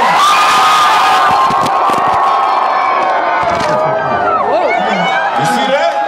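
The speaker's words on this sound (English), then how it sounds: "this is the loudest side of the crowd over here" Loud, dense crowd at a concert cheering, whooping and shouting continuously, close and enveloping, with voices rising and falling through the roar.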